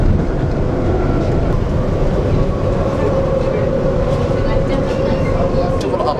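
An elevated metro train in Kuala Lumpur runs along with a steady, loud rumble and rolling rail noise from inside the car, unbroken for several seconds.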